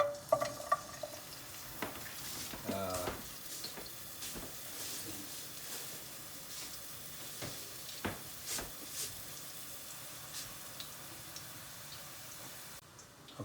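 Garlic fries in olive oil in a pan, giving a faint, steady sizzle and hiss broken by intermittent clicks and scrapes as it is stirred.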